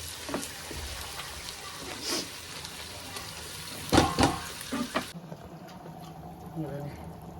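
Masala sizzling in a pan while mutton chukka is fried, a dense steady hiss with occasional clattering stirs, which grows quieter and thinner after about five seconds.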